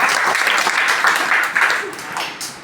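Schoolchildren in a classroom at a government higher secondary school clap together loudly, a dense, sustained burst of applause with no voices over it.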